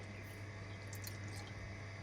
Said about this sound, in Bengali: ওই বাটিটার মধ্যে হাত ধুয়ে নাও